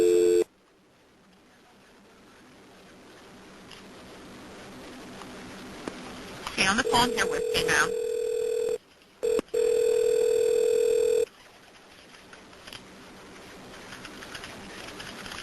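An emergency call is transferred to the county fire department: a telephone line clicks open into a steady dial tone, then comes a stretch of ringing or a busy-type tone, with a dispatcher speaking briefly over the line.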